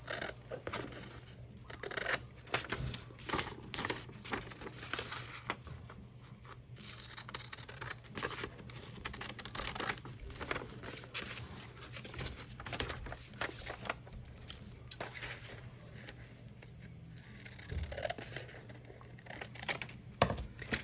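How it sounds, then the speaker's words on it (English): Scissors cutting photo copies printed on regular copy paper for a journal, with a steady run of close, crisp snips and paper rustles, no talking. "I think I'll cut it right here."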